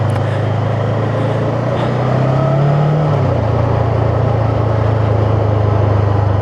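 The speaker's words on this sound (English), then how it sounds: "that's got a very good grunt, deep engine tone from that engine." Voge 500AC motorcycle riding along country lanes, its deep engine note droning steadily and close, with a brief rise in pitch around the middle before settling back to an even pulse under wind rush.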